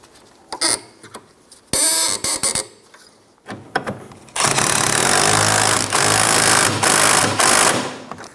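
A wrench tightens nuts on a sway bar link of a 2007-2012 Nissan Altima: scattered metallic clicks and short bursts of ratcheting up close, followed by a longer steady spell of rapid clicking until the end.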